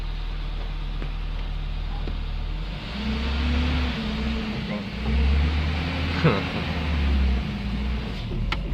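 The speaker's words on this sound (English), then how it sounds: "Alright, first test drive of the manual AE71." A Toyota Corolla AE71, converted from automatic to manual transmission, is driven on its first test drive. The engine gives a steady, close drone that rises in revs partway through, and the sound stays continuous.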